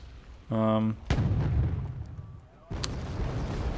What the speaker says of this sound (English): These are naval batteries. Naval artillery.